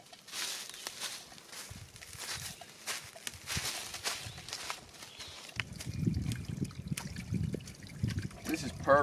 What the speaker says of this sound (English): It's crystal clear and it's trickling down.